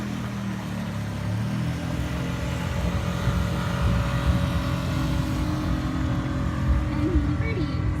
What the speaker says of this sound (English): Watch the boats come through.